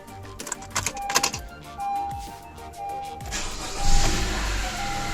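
A Honda CR-V engine cranks with a few uneven bursts, then catches and settles into a steady running rumble after a relay repair, fairly close and moderately loud, with no talking.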